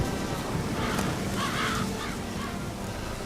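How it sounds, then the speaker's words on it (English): Crows cawing in the video game The Witcher 3, a few harsh caws rising over a steady ambient background, moderately close and distinct, with no talking. "Get out of here, crows."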